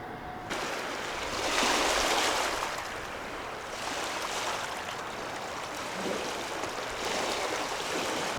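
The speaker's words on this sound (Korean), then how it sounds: "물소리도 들리고 너무 좋은데요." Flowing stream water at a spring campsite in the Magok recreation area, a steady broadband rush that swells and eases slightly, close and continuous, with no talking.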